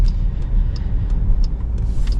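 A 2026 Dodge Durango Hellcat's engine rumbles steadily while driving on a road, a deep continuous drone with light ticking overtones and no talking.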